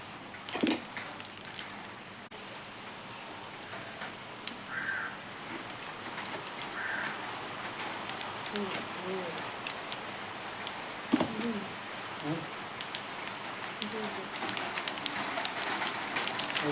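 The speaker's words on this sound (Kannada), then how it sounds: "ಮಳೆ ಸ್ಟಾರ್ಟ್ ಆಗಿದೆ." Rain falls steadily as a soft, even hiss on surfaces outdoors, with occasional nearby drips and taps while a dove coos several times in the background.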